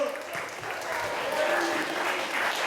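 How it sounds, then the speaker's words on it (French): Audience applause for Stacy, a magician's dancer and assistant, in a close steady burst of clapping with crowd murmur and a voice faintly underneath. "Et on peut applaudir bien fort Stacy quand même."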